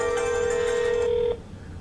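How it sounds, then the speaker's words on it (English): A telephone call rings out as a single steady electronic ring tone, close and clear, cutting off abruptly after about a second and a half into quiet line hiss. "It's like, it only rang twice too out of like freaking what, 6-8 rings?"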